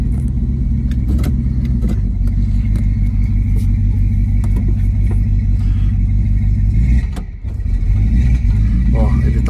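A 1967 Dodge Dart GT convertible with the top down runs its engine loudly and steadily, a constant low rumble filling the whole stretch with a brief dip near the end. There is no clear rising or falling rev.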